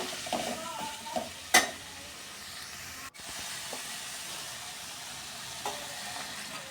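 Ash gourd pieces sauté in a pan for a South Indian kootu, a soft continuous hiss of frying with a few scraping stirs and one sharp clatter, fairly quiet and close.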